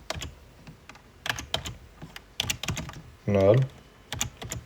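Clicky keys of a computer keyboard being typed on in irregular bursts of quick taps, close and fairly clear, with a short louder burst of another sound partway through.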